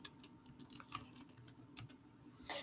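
Soft keystrokes tap on a computer keyboard in a short quiet burst, a quick uneven run of light clicks close by.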